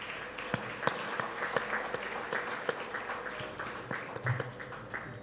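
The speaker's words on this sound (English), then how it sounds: "it's always nice to clap for these children" An audience at a conference session applauds the children, a steady patter of many hands clapping at moderate distance, fairly quiet overall and without voices.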